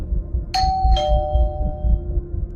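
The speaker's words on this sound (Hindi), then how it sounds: "तभी डोरबेल बजी।" A doorbell chimes twice in quick succession, two bright ringing tones that fade slowly over a low rumbling background with no speech.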